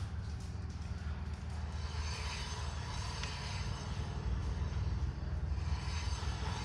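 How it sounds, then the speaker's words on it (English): A trailer wheel turns on a brake axle with an EZ Lube hub, giving a steady close grinding, ratcheting mechanical whir with a faint rhythmic click and no talk. "You can hear this is a brake axle, so it's a little harder to spin."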